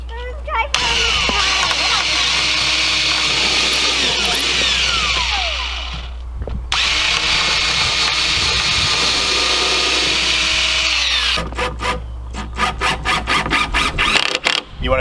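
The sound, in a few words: power drill drilling pilot holes through wood for chicken brooder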